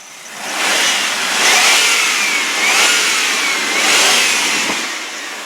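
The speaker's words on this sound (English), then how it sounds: "let me rev it up for you so you can hear it" A 2002 Chevy Blazer 4X4 engine revs up and down several times in loud, sweeping surges, close by with no talking.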